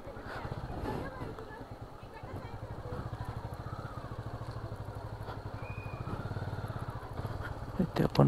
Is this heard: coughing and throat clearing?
no